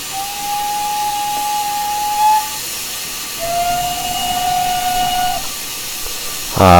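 A GWR steam locomotive brake whistle in Train Simulator Classic sounds twice, each a loud, steady tone held about two seconds, over a constant background hiss of steam, with a sharp mechanical clank at the very end.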